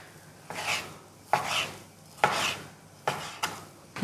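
A knife chops down onto a glass chopping board about five times at an uneven, unhurried pace, each strike a sharp, close, scraping knock with a short rasp after it, with no talking.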